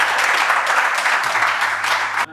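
Audience applause fills a poetry gathering, a steady wash of clapping from a crowd that holds at an even level throughout before cutting off abruptly at the end.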